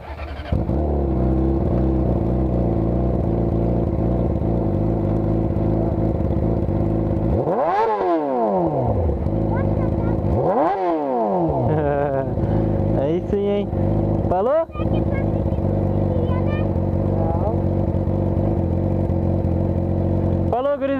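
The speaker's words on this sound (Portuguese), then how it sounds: "dá uma acelerada na moto dele" A Kawasaki ZX-10 motorcycle engine idles loudly, then revs hard twice in rising and falling sweeps, followed by more throttle blips, close to the listener.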